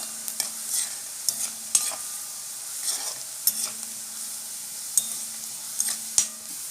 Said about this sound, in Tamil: இப்போ நம்ம வந்து வெங்காயம் போட்டுக்கலாம் வெங்காயம் நல்லா ப்ரௌன் நிறமாக வரட்டும்